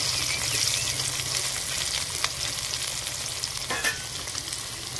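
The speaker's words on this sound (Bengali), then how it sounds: "আলুটা একটু লাল লাল করে ভেজে নেবো" Potatoes salted and tinted with turmeric frying steadily in hot oil, a continuous close sizzle with a few sharper pops and stirring scrapes, no voices.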